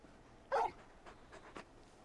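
A very big dog in a Final Fantasy game gives a short, faint whimper followed by a few soft panting breaths, quiet and close.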